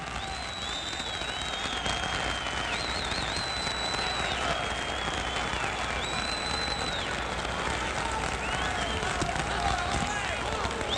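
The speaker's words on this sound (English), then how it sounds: "The crowd is applauding." Boxing crowd at a 1962 middleweight bout in New York, Rubin "Hurricane" Carter against Holly Mims, applauding in a steady, dense wash of clapping and crowd noise, with a ringside announcer talking over it throughout.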